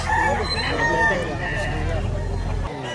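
Roosters at a gamefowl sale in Lipa, Batangas crow loudly and repeatedly, the calls overlapping over a low background rumble.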